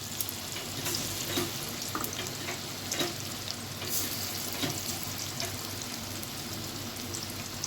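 Chicken pieces for chilli chicken fry in hot oil, a steady close sizzle and crackle with occasional utensil stirring, continuous and even throughout with no voices.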